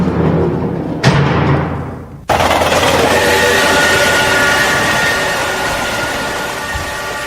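A loud, steady rumble of a train rolling along the tracks, with a thud and sudden bursts of clatter, slowly fading toward the end.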